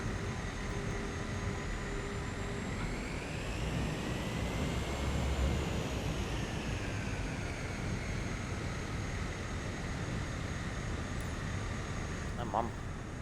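A flight-simulator airplane engine drones steadily throughout, a continuous loud hum whose pitch rises and falls slowly, with a faint voice occasionally in the background.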